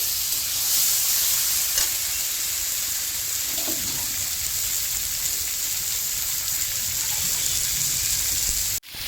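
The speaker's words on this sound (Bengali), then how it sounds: "চিংড়ি মাছটা দিয়ে দিচ্ছি হালকাভাবে নেড়ে দিচ্ছি" Prawns fry in a pan with a loud, steady, close sizzle throughout, with occasional faint stirring scrapes and a sharp knock right at the end.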